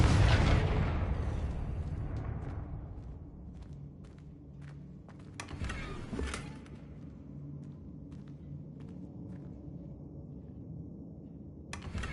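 A Confringo fire spell detonates in the Hogwarts Legacy video game, a loud booming explosion at the start whose rumble fades over several seconds, followed by scattered thuds and crackles.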